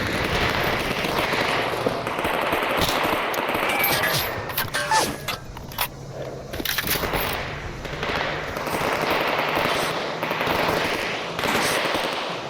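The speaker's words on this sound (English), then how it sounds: "A lot of gunfire raining from up high" Loud, sustained bursts of rapid automatic machine-gun fire in S.T.A.L.K.E.R.: Shadow of Chernobyl, in Pripyat, raining from above; mostly one continuous barrage with brief gaps and scattered sharper shots.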